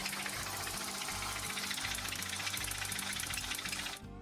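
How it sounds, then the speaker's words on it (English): A faulty Hyundai car engine runs with a fast, loud mechanical rattle and knocking over a steady drone, close up and continuous before cutting off abruptly near the end. "This customer came in with their Hyundai saying they had quite the engine noise"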